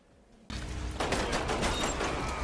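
Pistol gunfire in the video game Umbrella Corps bursts in after a quiet start, a dense rattle of shots and impacts filling the rest of the moment at loud, close range.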